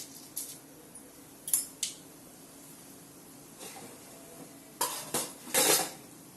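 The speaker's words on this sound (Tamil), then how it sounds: "அந்த கடுகு நல்லா பொரியுது" Mustard seeds splutter and pop in hot peanut oil in a pan while potatoes are being fried. Scattered sharp crackles come in small clusters over a faint background hiss, fairly quiet and close, with no talk.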